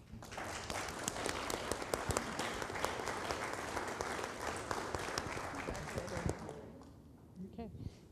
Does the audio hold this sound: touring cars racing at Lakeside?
no